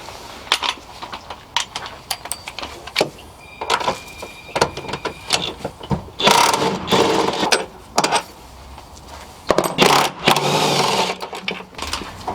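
Wrench work loosening 16mm engine mount bolts on a VW Jetta/Golf 2.0L, a string of sharp clicks, ratchet-like rattles and metallic clanks with bursts of louder clatter, close by and without talk.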